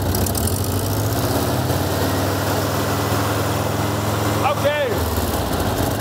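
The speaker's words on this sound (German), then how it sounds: "Gib noch mal Gas." Loud, close engine of a Mexican-built VW Beetle with a broken exhaust, running at a steady pitch with a rough, droning rumble; a voice calls out briefly near the end.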